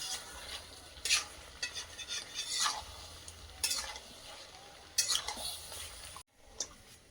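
Meat cooked over a wood fire and stirred in a pot, irregular scraping strokes and clatter over a low sizzle, fairly quiet, with a brief drop to near silence toward the end.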